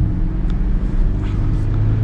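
A 2021 BMW X1 sDrive28i SUV accelerating on the road, its engine giving a loud, steady low rumble heard from inside the cabin.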